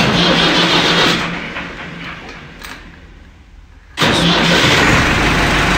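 A tractor engine chugs loudly, cuts out briefly, then cranks and roars back to life at close range.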